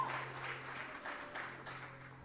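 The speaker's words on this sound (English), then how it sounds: "That's another round of applause to the delegates" A pageant audience gives the delegates a round of applause. The clapping is soft and diffuse, seems to come from some distance, and runs continuously over a steady low electrical hum.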